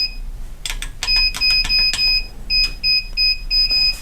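A slide-out quick access safe's alarm sounds after repeated wrong codes: high electronic beeps in short bursts, a steady pulsing pattern with brief gaps, loud and close, with no talking.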